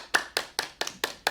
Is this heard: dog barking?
no